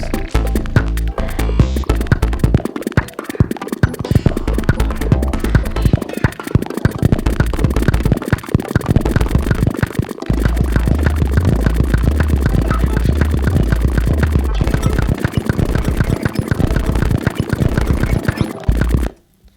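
Dense, loud music plays continuously at a fast tempo with a driving beat and layered parts, stopping abruptly at the end.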